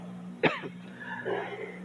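A single sharp, lingering cough near the start in a church service, followed by faint murmuring and low room hum.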